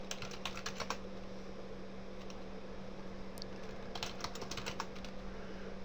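Fingers type on a computer keyboard in quick bursts of light clicking, pausing in between, close and soft over a faint steady hum with no speech.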